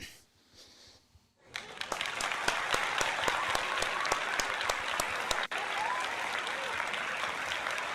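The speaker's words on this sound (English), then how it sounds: "I want to give you a round of applause for that." Clapping for a subscriber milestone during a live Phillies–Braves baseball play-by-play stream, starting after a quiet second and a half. Sharp close individual claps ring out over a steady crowd-like wash of applause.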